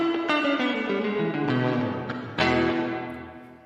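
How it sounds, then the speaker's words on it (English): A sound passed through a reverb plugin, heavily processed with added boominess and long reverberation; each loud struck onset blooms into a dense, ringing tail that decays slowly, with a second strong hit partway through. "We added even more boominess, even more reverberation to that sound"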